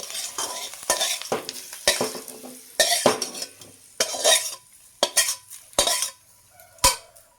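Boiled pumpkin goes into a frying pan and is stirred into the fry. Sharp metal scrapes and clanks come in irregular bursts close by, with softer sizzling between the strokes.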